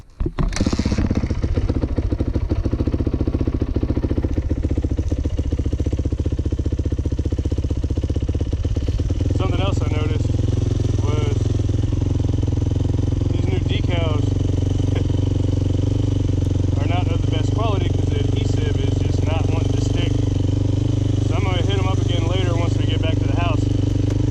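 A 1999 Yamaha YZ400F four-stroke dirt bike is kick-started and its engine keeps running with a steady loud rumble throughout, while a person talks over it.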